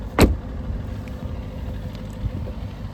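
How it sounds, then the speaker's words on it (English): A 2007 Aston Martin V8 Vantage Roadster's V8 engine gives a steady, deep rumble, with one sharp, loud transient near the start, heard close up with no one talking. "It's still gorgeous sounding car, sound lovely."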